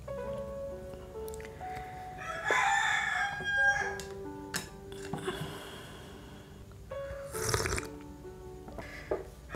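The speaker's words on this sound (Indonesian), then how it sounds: "ditemani oleh ayam yang berkokok" A rooster crows at 3 a.m., its drawn-out cock-a-doodle-doo calls repeating several times at moderate distance over quiet night background, with a few brief clucks and rustles between.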